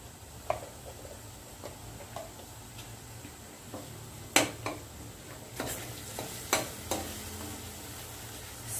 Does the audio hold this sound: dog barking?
no